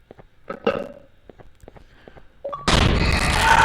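A cannon in the Garten of Banban II video game fires a loaded firework, a sudden loud broadband blast that bursts in after soft clicks and footsteps and holds as a sustained roaring whoosh to the end.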